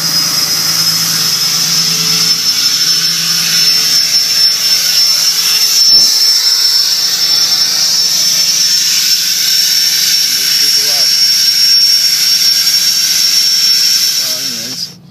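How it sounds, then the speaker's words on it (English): A 2011 Cummins diesel truck fitted with an H&S Mini Maxx tuner roars steadily up close with a high, whining exhaust brake hiss like a shop vacuum, holding loud for several seconds with brief speech over it. "we can come in here and hit the exhaust brake, and it's like a shop vac"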